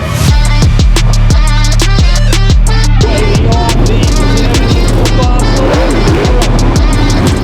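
V8 sprint cars roar around an oval track, loud and close, with a pulsing, repeated engine growl that fills the whole stretch without a break.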